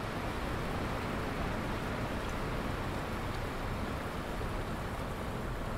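Steady rain hisses evenly throughout in The Bus driving game, a soft continuous wash with no distinct drops or other sounds standing out.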